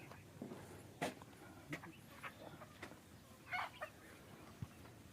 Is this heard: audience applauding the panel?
no